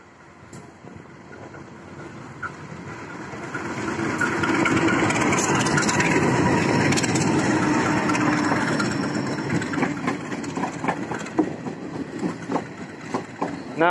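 A commuter train rumbles closer into a station on a double-track project line in Indonesia, with a rising, broad engine roar that swells in the middle and then eases, with clanks and squeals near the end.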